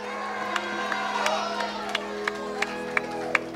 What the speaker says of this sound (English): That's the best shout you have. That's the best clap you have.